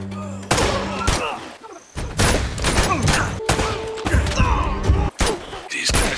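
Loud, close gunfire from the video game Uncharted: repeated sharp bursts and single shots, separated by brief gaps, with crackling impacts and game effects between them.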